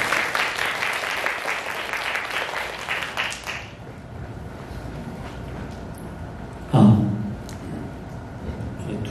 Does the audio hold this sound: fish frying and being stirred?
no